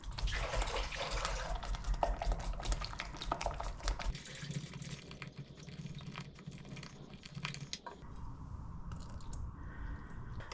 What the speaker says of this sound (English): let's just mix the eggs in first before I start adding the milk.